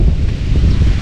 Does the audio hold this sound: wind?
yes